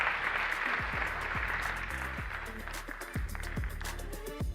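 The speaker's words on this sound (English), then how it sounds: "please give my panelists a round of applause as we make our way off stage" Audience applause at an African markets conference as panelists leave the stage, dense clapping continuing throughout with low thumping footsteps or stage movement underneath.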